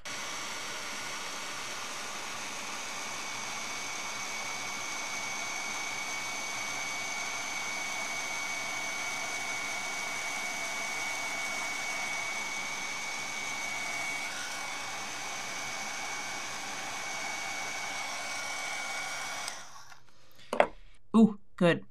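A heat tool melts embossing powder on a handmade friendship bingo card, a steady loud blowing whir with a faint whine that runs about twenty seconds before cutting off, followed by a few short knocks.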